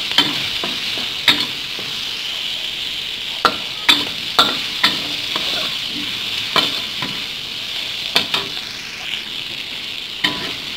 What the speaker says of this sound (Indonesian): Kolek-kolek terus ya sampai layu.